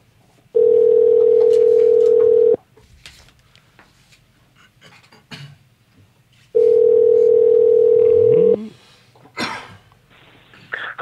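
An outgoing telephone call rings back with two long, loud, steady tones separated by a pause, with faint background noise and brief sounds between them.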